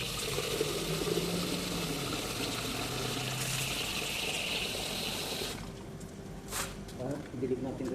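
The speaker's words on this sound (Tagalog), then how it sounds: "Lagyan natin yung tubig." Water pours and splashes steadily into a container while vegetable and tomato plants are being watered in a garden, a continuous broadband gush that eases near the end, with a person talking over it.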